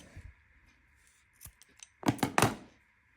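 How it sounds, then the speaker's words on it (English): Scissors snip through crochet yarn, with a quick cluster of close, crisp cuts after some quiet handling noise and no talking. "Now chain 1, and we're going to cut it off right there."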